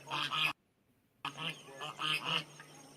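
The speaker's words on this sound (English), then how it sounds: "Those are ducks quacking." Ducks quacking in short, nasal bursts: a quick run of calls, a pause of near silence, then several more loud, close quacks.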